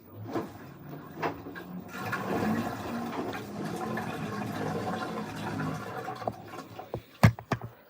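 LG WM3600HWA front-load washing machine filling with water for the final rinse, a faint steady rushing hiss with soft clicks and knocks, ending in a few sharper clunks.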